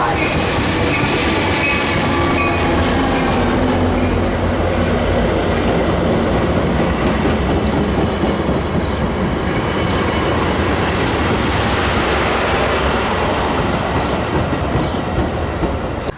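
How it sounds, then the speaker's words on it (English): A Milwaukee West commuter train pulling into Roselle station at dusk, a loud continuous rumble of railcars with rhythmic wheel clatter and faint squeal, steady and close throughout with no voices. "Milwaukee West train number 2243 to Big Timber is now arriving."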